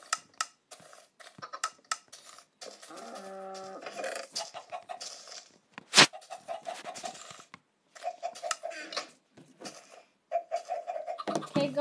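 Chickens cluck and patter in the Minecraft video game, with short bursts of clucking spread over several seconds and a louder squawk near the middle, no talking.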